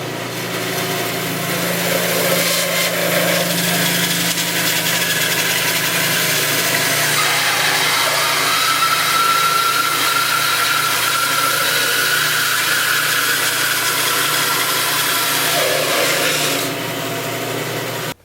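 A spalted maple deep bowl blank spins on a wood lathe, a steady motor hum with a faint high tone running continuously and fairly loud until it cuts off near the end.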